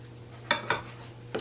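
A cookie scoop working through sweet potato dog treat dough: three short, sharp scraping clicks against a bowl, two close together and a third after a pause, in a quiet room.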